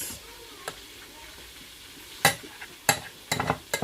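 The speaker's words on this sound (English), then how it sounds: "I'm going to pour in my egusi in there, but still continue stirring so it didn't get burnt." Ground egusi is stirred in a pot for Nigerian egusi soup, a low sizzle under a few sharp scraping knocks of a spoon against the pot, irregular and close, with no talking.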